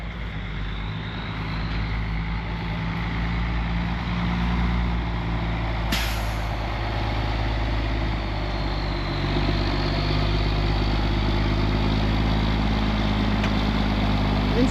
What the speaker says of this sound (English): So let's move the John Deere. It's the first time ever using it.